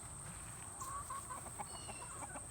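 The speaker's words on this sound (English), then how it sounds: "The chickens love all of this destruction." Chickens cluck softly in short scattered calls over a steady background hiss, around a barn being torn down, with no voices.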